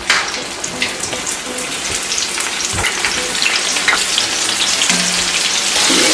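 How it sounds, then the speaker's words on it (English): Battered cauliflower wings fry in a pan on a stovetop over medium-high heat, giving a steady, dense sizzle and crackle that stays loud and close throughout with no voices. "Let's go ahead and get over to this stove and fry these on a medium"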